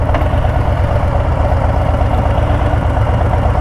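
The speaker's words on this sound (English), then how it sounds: "This is Harley Davidson sport bike right here" Harley-Davidson Low Rider ST motorcycle engine running with a steady, loud low-pitched throb and rapid pulsing rhythm, close and unbroken, with no voices.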